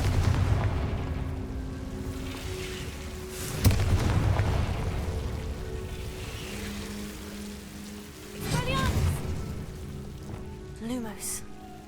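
A Confringo blasting spell goes off in Hogwarts Legacy, with sharp booming explosions and crackling impacts over a rumbling game ambience, some sounds close and loud.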